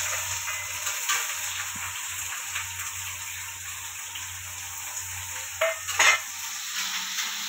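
Curry leaves, chopped onion and a few green chillies fry in hot oil for a traditional village-style ridge gourd chutney, giving a steady soft sizzle with occasional stirring scrapes and a couple of louder pops near the end.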